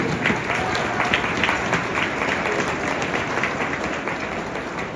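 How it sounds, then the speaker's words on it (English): At the Indian Ridge school winter band concert, the audience gives a sustained round of applause for a 6th grade administrator, a steady wash of many hands clapping at even loudness throughout. "give a big round of applause for the gentleman standing in the back"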